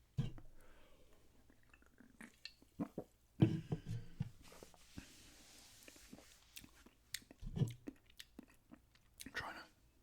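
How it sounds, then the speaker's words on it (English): Close-up gum chewing in a quiet, intimate setting: soft wet smacks and clicks recur irregularly over several seconds, some louder than others, with faint breathy sounds between. "the gum chewing I'll be doing in a minute"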